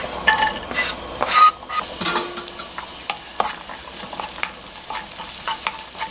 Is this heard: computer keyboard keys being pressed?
no